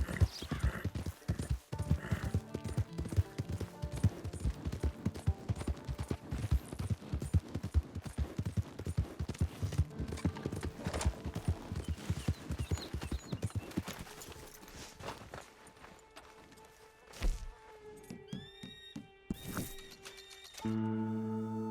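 Rapid hoofbeats clip-clop loudly and rhythmically as a horse gallops in the video game Red Dead Redemption 2 Online, slowing toward the end, followed by a horse whinnying.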